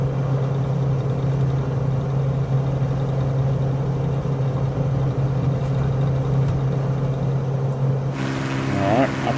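Ryan Navion B propeller aircraft engine at full throttle in Microsoft Flight Simulator, a loud steady droning hum held throughout, with a shift in tone near the end.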